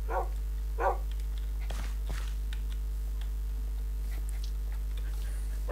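A dog in the game Minecraft gives two short, clear barks near the start, then the scene goes quieter with faint scattered game sounds and soft clicks.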